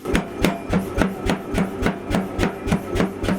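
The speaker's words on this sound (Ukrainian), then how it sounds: "Тепер коваль Роман Тринос працює на більш сучасному та потужному молоті і виготовляє вдвічі більше продукції." A pneumatic forging hammer pounds in a fast, even rhythm, about three blows a second, each strike sharp and loud.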